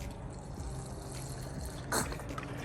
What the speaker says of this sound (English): So we're going to put some Fuzion in there.